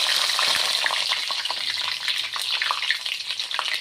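Bay leaf and dried red chilli tempering frying in hot oil, a steady dense crackling sizzle with scattered pops throughout, close and fairly loud, no voices.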